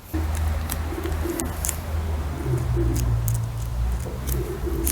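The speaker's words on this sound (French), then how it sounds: "On est dans les pigeons dehors." Pigeons coo repeatedly outdoors, soft low rhythmic calls that come in several bursts against a steady background hum.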